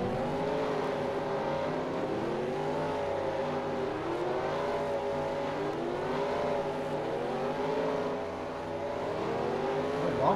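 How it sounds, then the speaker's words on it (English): Race car engine in a stock car racing video game at Bristol, holding a steady droning whine with repeated rising and falling pitch sweeps as it slows onto pit road, loud and continuous with no talk. "Now Robert comes into pit road and gives up the lead."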